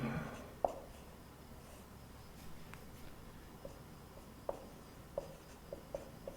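Marker or chalk strokes on a classroom board during a lesson, a series of faint, sparse taps and scratches spread across a quiet room.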